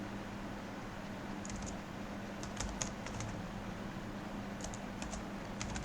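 C++ code being typed on a computer keyboard, soft close key clicks in short bursts and scattered single taps over a faint steady hiss.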